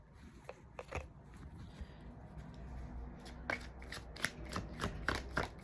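Tarot cards are shuffled close up, with a steady riffling rustle that builds into sharper, rhythmic snapping bursts toward the end, heard alone without talk.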